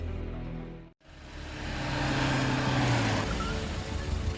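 A car pulls in and parks as a radio drama effect, its engine hum swelling into a steady low drone after a brief cut, fairly close and without voices.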